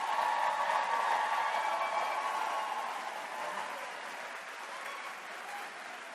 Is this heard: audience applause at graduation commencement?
yes